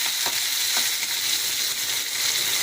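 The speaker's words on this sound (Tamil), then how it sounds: "கொஞ்சம் கடுகு, காஞ்ச மிளகா, நல்லா வதங்கட்டும்." Mustard seeds and dried red chillies fry in hot oil with a loud, dense, steady sizzle and a few soft pops near the start, heard close up with no voices.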